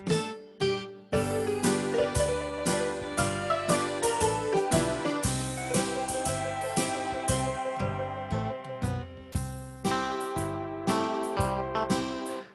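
An Estey electronic organ plays a short, full-sounding introduction with sustained chords and a bass line, steady and fairly loud, with no voices.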